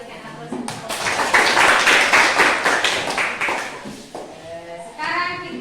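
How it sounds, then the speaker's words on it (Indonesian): Audience in a classroom presentation session claps for a group, a burst of applause that swells and fades over several seconds, with a voice speaking before and after. "Berikan aplaus untuk kelompok"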